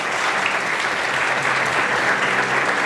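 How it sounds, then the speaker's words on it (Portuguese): A church congregation applauds during worship, a dense and steady wash of many hands clapping that continues loudly for the whole stretch without any break. "Pode aplaudir o Senhor."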